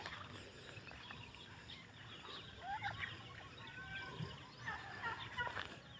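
Turkeys gobbling in bursts outdoors, mixed with clucking fowl and other bird calls over a steady background, moderately distant.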